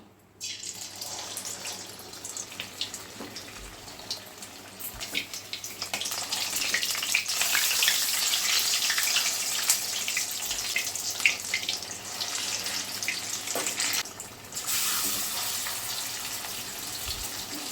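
A loud, bubbling sizzle of stuffed ash gourd leaf fritters deep frying in white oil in a wok, rising as pieces drop in, with occasional soft clinks and pops.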